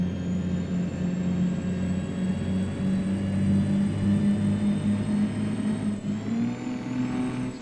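A Kenworth K100 cabover truck engine in American Truck Simulator drones loudly and steadily, then its pitch shifts noticeably near six seconds as the transmission downshifts, with the rumble continuing afterward.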